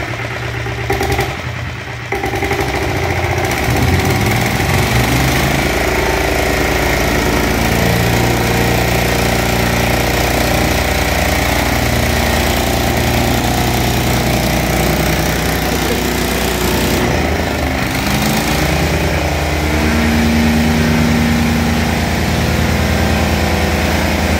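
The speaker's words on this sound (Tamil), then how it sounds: "தூக்கி விட்டு ஸ்டார்ட் பண்ணுங்கள்." An Everon Impex earth rammer's small engine runs loud and close after starting, a continuous rough chugging drone with a brief dip in the first few seconds, then holding steady throughout.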